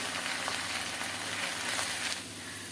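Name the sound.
frying spices and egg curry masala in a pan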